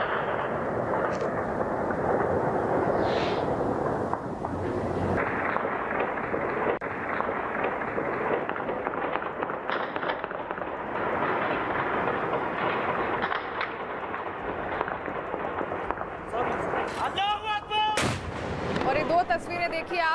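Heavy gunfire in Panjshir, Afghanistan, heard as repeated rattling and booming shots in news footage, mixed with crowd noise and clatter, plus a few sharp loud bursts near the end.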